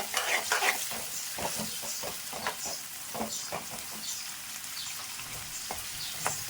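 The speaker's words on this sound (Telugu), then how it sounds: "బాగా ఫ్రై చేసేద్దాం." Onions frying in a pan for mutton fry, a close crackling sizzle with frequent stirring scrapes and clatter, steady and fairly loud without talk.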